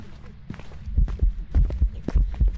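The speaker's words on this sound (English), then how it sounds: "Now we listen to the footsteps." Ghostly footsteps in a horror video game: a series of heavy, muffled thuds in an uneven walking rhythm, growing louder and closer over a couple of seconds, with a faint low hum beneath.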